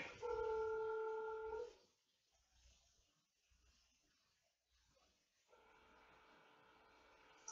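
Outgoing call placed from a business phone system to a sandwich shop: a short burst of dialing tones, then quiet line noise. A repeating ringback tone follows near the end, thin and telephone-filtered.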